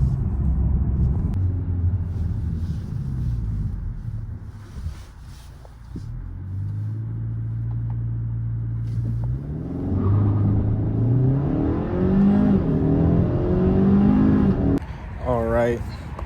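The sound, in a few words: 2025 Kia K5 GT car accelerating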